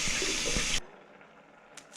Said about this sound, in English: Cool the eggs by running cold water over them.